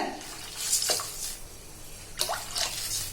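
Water splashes into a pot of rasam in two short pours, with a light liquid gurgle and soft spatter.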